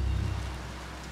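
Rain falls in the video game Biomutant, a brief steady wash of broadband hiss with a low rumbling undertone, heard alone without speech.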